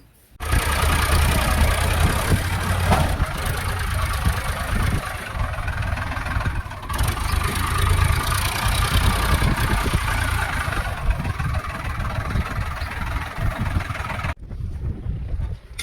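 A tractor with a gravel trolley hitched behind it idles nearby, its loud, steady engine rumble continuing for many seconds with wind buffeting the microphone, then cutting off abruptly near the end.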